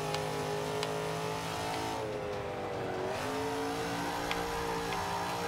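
Engine of a 1970 Dodge Challenger in a Forza 5 racing game, Class D on stock tires, a steady loud roar that dips as the car lifts and then climbs again under acceleration.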